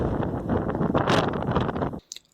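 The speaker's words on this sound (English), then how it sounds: "Quite windy out here." Gusty wind buffets the microphone outdoors in a loud, rumbling rush for about two seconds, then cuts off into near silence with a couple of faint clicks.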